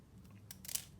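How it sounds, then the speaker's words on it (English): Small, not very sharp decal scissors snip through paper in a craft session, a quick pair of faint crisp cuts close by in a quiet room. "I'm going to again use the decal scissors to cut a little bit"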